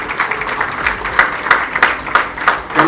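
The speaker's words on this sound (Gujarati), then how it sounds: "જોરદાર તાળીઓ થઈ જાય" Audience applause at a business networking event, a crowd clapping loudly with rhythmic bursts of sharper claps rising and falling in waves, no speech over it.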